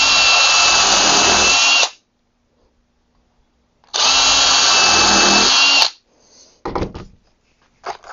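An impact driver fastening screws into wood for a gate leg table gives two loud, steady bursts of about two seconds each, a pause between, then brief knocks and handling clatter at the end.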